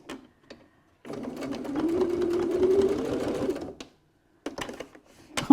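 A sewing machine back stitches on a wallet in one steady, close run of rapid whirring lasting a few seconds, framed by brief clicks and a shorter burst at the end.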